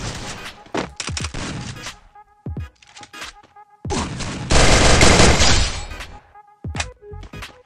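Gunfire in the Free Fire mobile shooting game: sharp, loud bursts of rapid shots and single cracks separated by brief silences, with one longer dense volley near the middle and a faint voice now and then.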